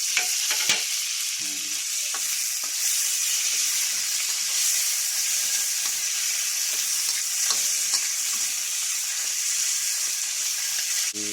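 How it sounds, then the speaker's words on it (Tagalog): Tomatoes and chili sautéing with garlic and onion in a pan previously used to fry tilapia, a continuous loud sizzle with occasional stirring clinks and scrapes, no voices. "Yan, nagisa na ako ng bawang at saka sibuyas. Lagay ko na yung kamatis"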